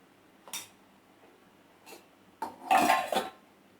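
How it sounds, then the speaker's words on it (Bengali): A spoon scrapes and clinks against a bowl while sour yogurt is stirred into semolina. The taps are quiet and scattered, ending in a louder cluster of scraping near the end, with no talk. "টক দইটা সুজির সাথে আমি মিশিয়ে দিচ্ছি"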